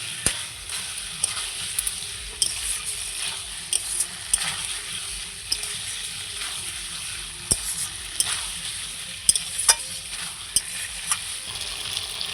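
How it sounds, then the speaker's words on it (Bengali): Pointed gourd and potato pieces with salt, turmeric and chili stirred in a hot pan, a steady close sizzle broken by repeated sharp scrapes and clinks of the spatula against the metal. "পটলটা দিয়েও আমি খুব সুন্দর করে একটু নেড়ে নিচ্ছি, মানে পটলের মধ্যে মশলাটা খুব সুন্দর ঢুকে যাবে।"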